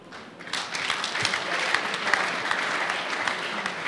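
A congregation claps at a Sunday church service, a dense, steady roar of applause that builds quickly and holds, fairly loud and without distinct voices.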